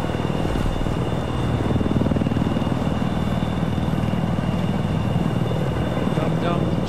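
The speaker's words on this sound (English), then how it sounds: "chopper straight ahead" Helicopter rotor and engine drone steadily in Battlefield 4, a loud, continuous low chopping hum close by, with voices talking over it.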